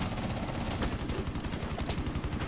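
Rapid automatic gunfire from the tactical shooter Rainbow Six Siege, a dense continuous stream of close, loud shots rattling for the whole stretch with no talking over it.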